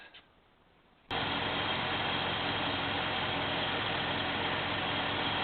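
A Rover P6 engine starts abruptly after a quiet moment and settles into a steady, loud, close idle with an AC pump running, a continuous drone with no talk.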